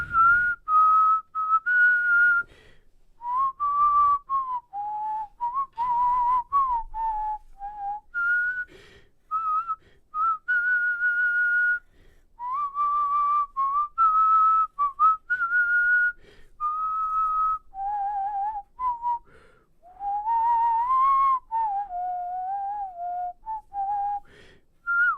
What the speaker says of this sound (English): Whistle the theme song from Lord of the Rings?